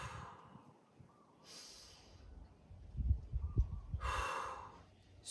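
Two deep breaths taken during a mobility exercise, each a long airy inhale or exhale with a pause between them, close and clear, with low rumbling room noise underneath.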